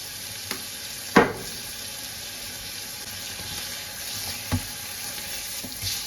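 Steak frying in a pan with garlic gives a steady, close sizzle, broken by a sharp clatter early on and a few softer knocks later.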